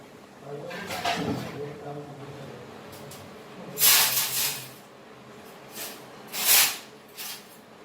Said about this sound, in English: So there it goes for frying.